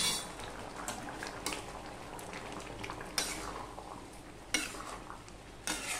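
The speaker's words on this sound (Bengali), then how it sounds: "সম্পূর্ণটা মিশিয়ে নিলাম" A spoon stirs a simmering dish after roasted coriander and cumin powder is added, with soft scraping and occasional light clinks against the pot, faint and close with no talking.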